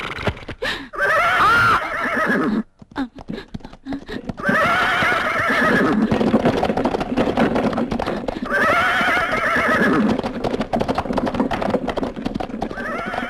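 Several horses neighing loudly in repeated whinnies while hooves clip-clop around them close by, with a brief pause between bursts.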